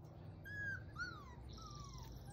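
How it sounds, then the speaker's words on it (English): Six-week-old Winnebago Apollo puppies whimper in a few thin, rising and falling whines over a low rumbling background, fairly close but soft. "these are the Winnebago Apollo puppies"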